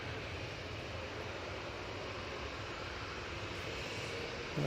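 An EasyJet airliner moves onto the runway at Manchester Airport, its engines giving a steady, fairly distant roar that holds level throughout and swells slightly at the very end.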